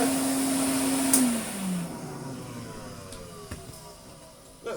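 A Hoover Constellation 862 floating vacuum cleaner hums steadily, then its whine drops away as the motor winds down, leaving faint clicks and handling noise.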